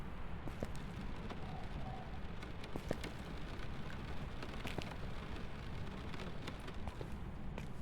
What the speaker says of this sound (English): you can listen to rain hit the crap out of it